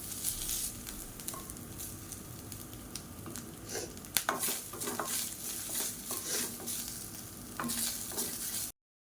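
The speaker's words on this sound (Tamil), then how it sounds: "தேங்காய் சேர்த்துட்டு லேசாக வதக்கி விட்டுக்கலாம்" Grated coconut sautés in hot ghee: soft sizzling under repeated scraping and stirring of a spoon against the pan, with occasional louder clinks, close by and without speech, ending abruptly.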